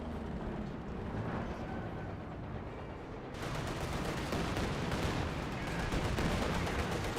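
Dense gunfire and rattling machine-gun bursts in the Company of Heroes 2 WWII strategy game, a continuous loud battle din that swells and grows busier partway through.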